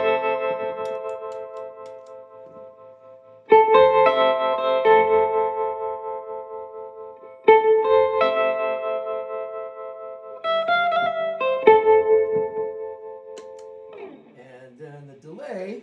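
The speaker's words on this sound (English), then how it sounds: "So the tremolo kind of speaks for itself." An electric guitar runs through a tremolo effect pedal and plays a few loud, sustained chords and notes that pulse in volume, with a wavering bend near the end and no talk over it.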